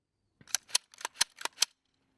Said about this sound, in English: Rack the bolt back to the rear 3 times to ensure the chamber area is clear.